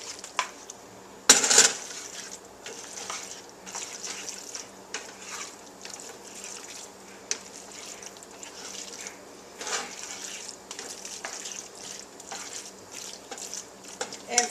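A spoon stirs tomato soup into a casserole in a pot on a home kitchen stove, soft wet swishes and light metallic taps against the pot, with one sharper clink early on, close and fairly quiet.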